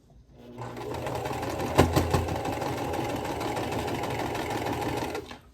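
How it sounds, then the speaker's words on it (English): A freshly cleaned and oiled sewing machine with a new needle runs steadily with a busy mechanical whir, a few sharper clunks standing out early before the motor stops. "Clunk, clunk, clunk. I cleaned you. I oiled you. You got a new needle."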